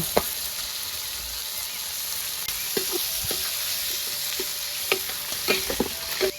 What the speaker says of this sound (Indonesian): Goreng lombok buat sambelnya, Lor.